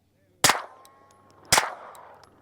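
Two loud, sharp reports from a suppressed handgun firing 115 grain rounds, about a second apart, each with a quick decaying tail on an outdoor range.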